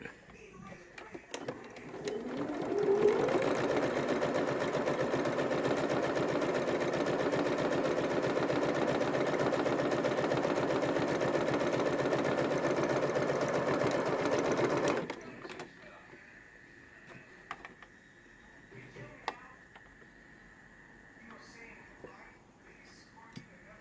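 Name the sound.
sewing machine top stitching a card slot pocket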